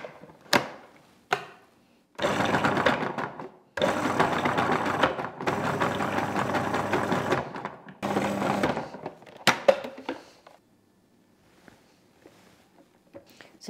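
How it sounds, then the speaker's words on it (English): Blender pureeing raspberries with cream for a chocolate raspberry mousse: close whirring motor runs in several pulses of a few seconds each, with thunks and clatter between them and a quiet tail. "I'm just going to puree or pulse that through until it's smooth."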